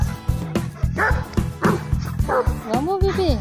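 Dogs at a country farm bark and yip in quick, loud bursts close by, with whimpering mixed in and a voice speaking between them.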